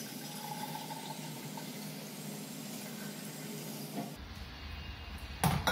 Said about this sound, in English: we're going to place 2 liters of boiling water into our brew jar